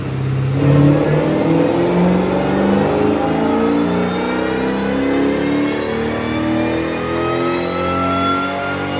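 A Saleen car with a 2V engine and a new setup on a dyno revs hard in a loud, continuous climbing pull, its pitch rising steadily throughout with no talk.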